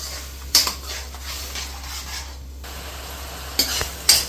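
Tamarind extract bubbles and simmers steadily in a pot for puli aval, with a soft continuous sizzle, a few sharp clinks of a spoon against the pot, and no one talking.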